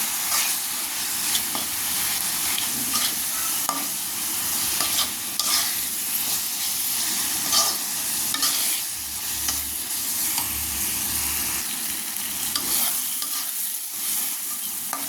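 Turmeric, dried chili powder, ginger-garlic paste and salt fry in a pan for a dried mola fish bhuna with onion. A loud, continuous sizzle and hiss runs throughout, with frequent stirring scrapes and no speech.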